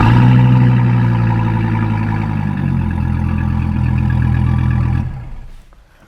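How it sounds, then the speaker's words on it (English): 2017 Dodge Viper ACR Extreme engine running from start-up, a loud close rumbling idle with strong low harmonics, steady for about five seconds before it abruptly cuts off and fades. "Really neat when you fire up the car."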